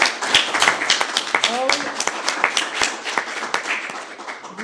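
Crowd applauding at a childcare workers' strike rally, dense continuous clapping with sharp individual claps standing out and a few voices calling out over it.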